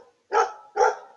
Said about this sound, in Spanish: Él es mi perro Beethoven.